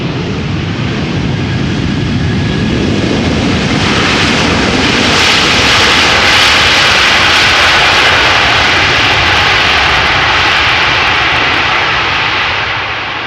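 A jet airliner touches down at Amsterdam Schiphol and deploys its thrust reversers, producing a sustained, loud, broadband engine roar that swells and holds steady before easing slightly at the end.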